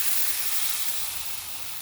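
A blended coconut sauce mixture sizzles steadily in a pan, a dense bright hiss that fades slightly over a couple of seconds.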